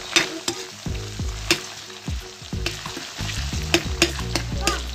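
Tomatoes hit a hot pan with ginger while cooking a Nepali dish, bringing a steady frying sizzle punctuated by repeated sharp clacks and scrapes of a stirring utensil against the pan.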